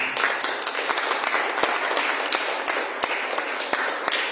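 A church congregation applauding, a dense, steady round of clapping that fills the space with sharp individual claps scattered through it.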